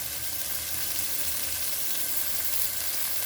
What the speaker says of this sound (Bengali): দিয়ে এটা ভালো করে ভাজা হতে দেবো।